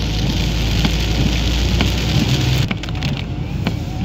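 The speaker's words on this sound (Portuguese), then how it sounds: "Lá a chuva está caindo de forma torrencial também." Heavy torrential rain drums loudly and steadily across surfaces in a Porto Alegre neighbourhood during a storm, easing slightly toward the end as individual splats and drips stand out more clearly.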